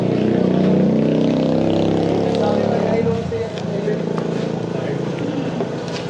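A motorcycle engine runs with a steady low drone that eases off partway through, while people talk nearby.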